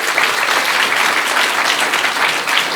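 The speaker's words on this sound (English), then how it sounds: "So give one more round of applause to the presenters." Applause from the audience at a student lightning-talk session of a research conference, as presenters finish: a full, continuous wash of many hands clapping, loud and even from start to finish.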